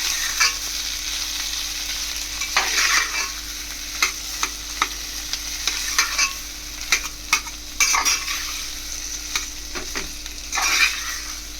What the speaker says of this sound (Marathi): चांगली भाजी परतून